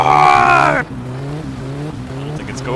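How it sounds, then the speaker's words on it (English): A car engine in the My Summer Car video game revs hard under load as the car sits stuck in water, a strained roar that drops to a lower, rough idle-like drone, with someone talking over it. "Alright, give it some revs."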